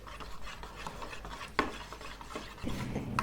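Christmas plum cake batter with ground clove being mixed in a bowl, soft wet scraping and stirring strokes with a couple of sharper clinks of a utensil, close and quiet, no voices.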